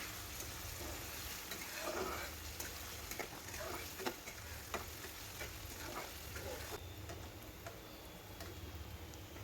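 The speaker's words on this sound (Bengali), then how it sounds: "এখন পেঁয়াজ আর রসুন কুচি ভালোভাবে ভেজে নিচ্ছি" Chopped onion and garlic fry in oil in a wok for Bengali-style egg fried rice, giving a steady close sizzle with scattered small ticks and pops and no voices.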